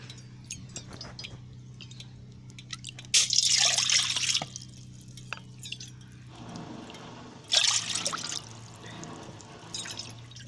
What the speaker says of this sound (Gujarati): તો અહીંયા ત્રણ વાટકી આપણે પાણી ઉમેરશું.